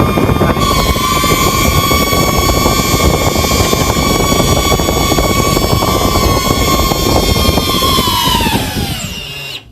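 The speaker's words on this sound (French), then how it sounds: "Voilà, là, le drone décolle." A DJI Neo mini drone takes off, its propellers giving a loud, close, steady high-pitched whine with a buzzing edge that holds for several seconds and then drops in pitch and fades as it winds down.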